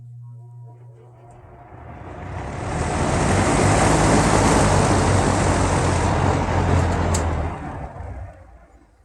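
A powerful electric fan motor starts up and spins, rising into a loud rushing whoosh of air and motor noise. The sound holds steady for several seconds, then tapers off as it spins down.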